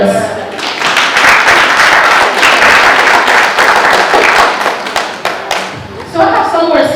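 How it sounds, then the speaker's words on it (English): A graduation audience applauds the parents, dense loud clapping that swells and holds for several seconds, then thins out as a voice begins speaking. "So clap the parents."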